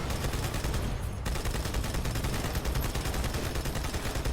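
Turret fire in Halo 2 keeps up a dense, unbroken rattle of rapid shots, loud and continuous, with a brief thinning near the start.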